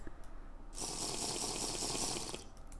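Running water from TerraFirmaCraft, the Minecraft mod, gushes steadily for about two seconds like a tap filling a vessel, loud and close, with quieter game noises before and after.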